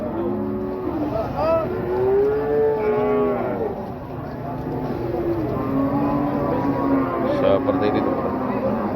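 Cattle at the Wirosari livestock market low in repeated drawn-out moos, several overlapping animals near and loud, with a busy crowd murmur beneath.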